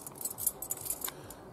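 A bunch of keys jangling close by, a quick cluster of bright metallic clinks that fade out toward the end.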